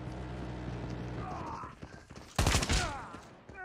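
Automated sentry gun in a first-person shooter firing a burst of rapid shots, loud and close, with a game announcer voice heard beforehand.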